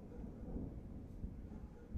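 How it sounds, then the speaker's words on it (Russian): Low, muffled rumble of distant thunder rolling through a severe thunderstorm in Adler, faint and continuous with a few deeper thumps. "И гром поближе стал какой-то."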